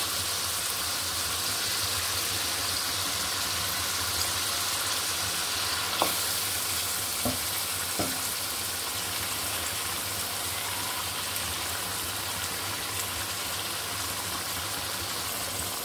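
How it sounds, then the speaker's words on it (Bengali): Beef pieces on the bone fry in spices in a pan, giving a steady, even sizzle and hiss throughout, with a few faint taps of stirring. No one speaks. "মাংসটা আমি কষিয়ে নিচ্ছি ভালোভাবে"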